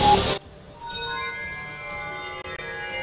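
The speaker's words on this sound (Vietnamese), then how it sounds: "hãy nhấn chuông để mở." On a Vietnamese TV picture-guessing game show, a contestant hits the buzzer bell, making a loud burst followed by a bright, sustained ringing tone that holds and fades under studio ambience.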